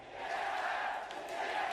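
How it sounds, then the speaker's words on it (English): A Chinese crowd at a League of Legends esports event chanting TSM, heard as a steady, loud, massed roar of voices filling the hall without a break. "the TSM chants out of the Chinese crowd"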